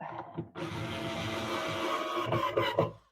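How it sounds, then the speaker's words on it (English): An electric screwdriver driving Phillips screws into vintage wood furniture, a sustained close motor whir of about two seconds that rises and stutters as the screw seats, then stops. "using Phillips screws and obviously electric screwdriver as well makes that a lot quicker and easier than struggling with a hand screwdriver"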